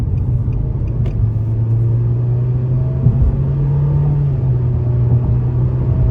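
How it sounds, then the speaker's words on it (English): Steady engine drone from a 2024 Nissan Kicks S with a 1.6-litre four-cylinder pulling in sport mode, its pitch rising gradually under moderate throttle and a constant road rumble inside the cabin. "So we'll go ahead and put in the sport mode here and put our foot down."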